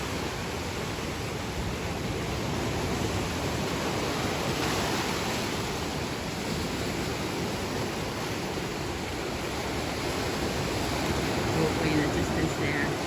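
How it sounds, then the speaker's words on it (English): Surf breaking against the rocky Iron Shore coast on the windy side of Roatan, a steady, loud wash of waves and wind that fills the whole stretch without a break. "All islands have a windy wild, wavy side, and this is it."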